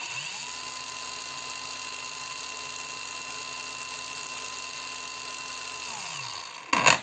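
A DEVETECH AG-560W angle grinder runs on its first speed setting, spinning up quickly into a steady high whine that holds evenly for several seconds before winding down, followed by a brief clatter.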